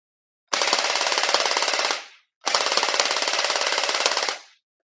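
A custom Anstoy M4A1 gel ball blaster converted to an M4 Stoner style fires two long full-auto bursts of about one and a half seconds each, a loud rapid rattling buzz, close and alone with a short gap between bursts.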